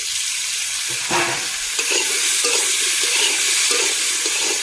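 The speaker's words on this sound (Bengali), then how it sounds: "ভালোভাবে একটু ভেজে নেবো আলুটা" Cut potatoes fry with reddened chopped onions in a pan, a loud constant sizzle with repeated scraping stirs of a spatula against the pan surfacing every second or so, with no speech.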